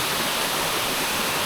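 A small waterfall in Koh Samui pours in a steady, dense broadband rush of splashing water, close and constant with no voices over it.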